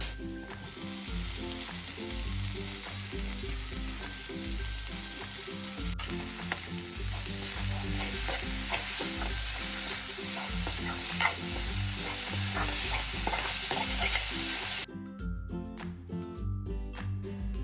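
Dill greens sizzle and fry in a pan with asafoetida, turmeric and masala, under a steady loud hiss with rhythmic stirring scrapes throughout and a brief quieter moment near the end.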